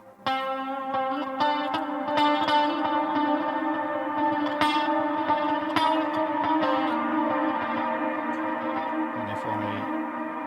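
Electric guitar run through a Moore Ocean Machine pedal with heavy reverb and echo, sustained chords and plucked notes ringing into a dense, washing tail, loud and continuous without talk.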